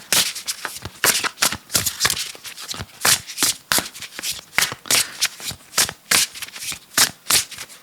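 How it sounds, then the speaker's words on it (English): A deck of tarot cards is shuffled by hand over and over, producing loud, close riffling bursts with short pauses between them and no talking. "going to pull one more card from this deck."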